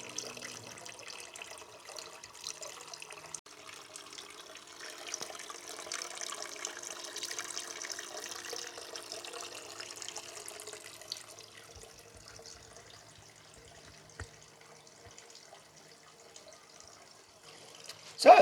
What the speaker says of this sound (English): And the little water feature runs.